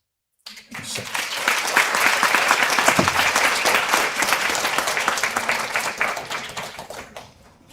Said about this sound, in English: just give another great round of applause to the class of the 2026 graduates